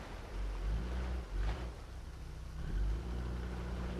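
Car engine revving in a muddy off-road driving video game, a low rumbling engine that surges in a couple of swells over steady background noise, no talk.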